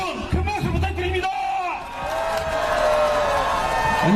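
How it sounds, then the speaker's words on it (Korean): A rally crowd on a street corner in Geoje roars with cheering and whoops, a dense swell of voices that builds and holds loud, with a speaker's voice audible over the start. "여러분 큰 박수 부탁드립니다."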